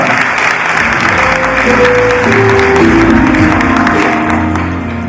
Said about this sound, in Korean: 다시 한 번 더 두 분께 큰 박수를 환영해 주시기 바랍니다